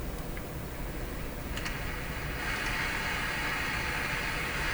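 An untuned radio speaker with no antenna gives off a steady, faint hiss of static, broadband and continuous throughout, swelling slightly in brightness partway through, with no voices.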